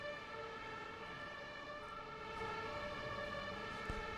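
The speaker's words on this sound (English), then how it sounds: "Oh, it's the fire brigade, yeah, not the ambulance." A fire engine siren in Stockholm wails with steady tonal bands over a constant background rumble, fairly loud and continuous throughout, with no voices.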